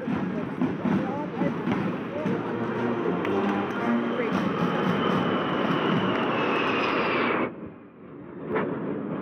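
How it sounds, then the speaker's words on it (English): Two Super Hornet fighter jets pass low overhead during an ANZAC Day parade, a loud, sustained roar that fills the clip for about seven seconds, then cuts off sharply and fades into distant crowd noise. "The two Super Hornets from Bath Bay County have just flown over us."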